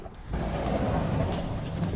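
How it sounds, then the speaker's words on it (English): At a junkyard, a car is shoved into place, a heavy low grinding rumble that starts abruptly after a quiet moment and carries on steadily, heard from some distance. "shoving a car in over there. That's what you hear that noise is."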